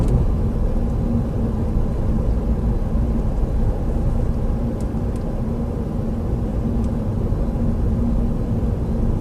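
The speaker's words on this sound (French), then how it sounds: "ça monte un peu, j'utilise le thermique, pas trop, juste pour maintenir ma vitesse" Toyota Auris hybrid (HSD) petrol engine pulling gently uphill to hold speed, a steady low in-cabin drone and road rumble that stays constant and loud throughout, with no talk.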